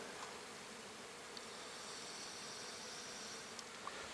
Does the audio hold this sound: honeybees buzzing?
yes